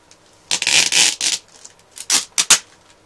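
Adhesive tape is peeled off the box of a Logitech HD Pro Webcam C920 in several close, sharp ripping bursts, a long tear followed by shorter quick pulls, with no talk.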